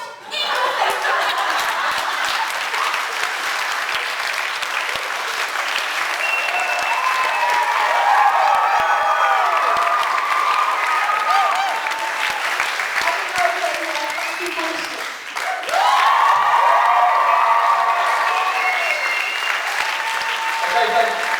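Sustained audience applause at a stand-up comedy show, a dense wash of clapping running for about twenty seconds with a brief dip midway before swelling again, with some cheering and laughter mixed in.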